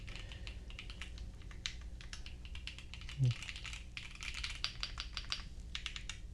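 Typing on a tactile OnePlus Keyboard 81 Pro on a desk mat produces a close, rapid stream of crisp key clicks in irregular bursts, with one brief low thump partway through.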